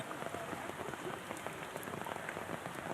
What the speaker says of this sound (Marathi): भिवंडी शहर तसेच ग्रामीण भागामध्ये मुसळधार पावसाने हजेरी लावले